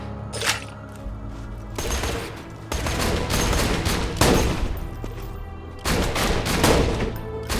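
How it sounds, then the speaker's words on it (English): Rapid bursts of gunfire in Borderlands 2, shots aimed at the player's own vehicle, loud and close, with several volleys separated by short gaps and sharp impacts cracking through. "I'll shoot my own vehicle"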